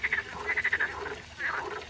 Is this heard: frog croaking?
yes